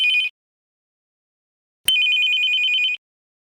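A telephone rings with an electronic trilling bell, a short burst followed by a pause and then a longer ring of about a second, loud and close in an otherwise silent room.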